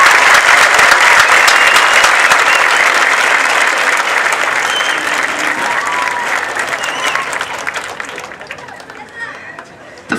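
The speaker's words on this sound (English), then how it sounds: "Let's have a round of applause for them" Loud, sustained applause from a large audience at a high school graduation ceremony, dense clapping that gradually thins and fades toward the end.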